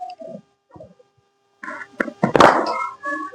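A single hard knock of a cricket bat striking the ball on a moving-out drive at a practice session, a sharp thunk near the end amid brief soft scuffs and nearby movement.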